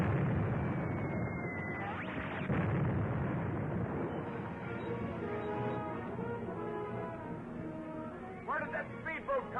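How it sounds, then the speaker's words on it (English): A deck gun firing in a 1945 film serial scene: heavy booming blasts and rumbling explosions under a dense, noisy soundtrack, with voices heard faintly in the mix. "But our deck gun has the range."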